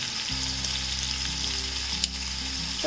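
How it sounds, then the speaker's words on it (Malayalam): Sliced onions sauté over a high flame in hot oil, giving a steady, close sizzle with a few brief stirring clinks and a low hum running underneath. "ഫ്ലെയിം കൂട്ടി വെച്ചിട്ടാണ് നമ്മൾ ഈ സവള വഴറ്റിയെടുക്കുന്നത്"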